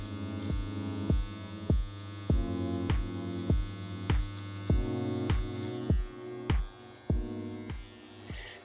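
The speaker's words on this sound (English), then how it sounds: "With the hair cutter at its lowest level, and I checked that there was no oil on the blades, I very carefully shaved the bobbles off." An electric hair cutter set to its lowest level shaves bobbles off Alcantara seat fabric on a Lancia Delta Evo2, giving a steady motor hum broken by regular rhythmic strokes, about one every half second, close by.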